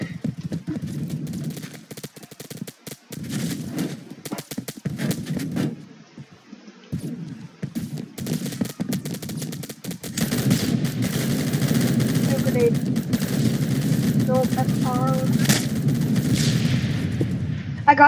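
Gunfire and a grenade in the Phantom Forces shooter game come as rapid bursts of shots and scattered blasts, building to a denser, sustained stretch of firing in the second half.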